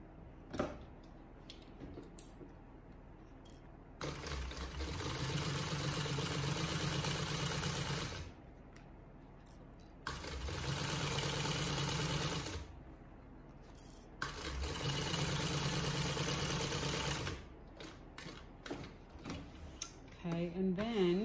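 A sewing machine basting a flap onto a fabric bag runs in three steady bursts of a few seconds each, with short pauses in between and soft handling noises.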